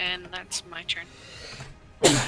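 A single sharp, loud sneeze bursts out right after someone finishes speaking at a tabletop role-playing game session, close to the microphone.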